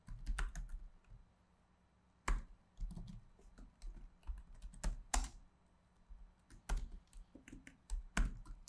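Dart code typed on a computer keyboard while installing Dart on Windows: bursts of quick key clicks with brief pauses and a few harder keystrokes, close and clear with no talking.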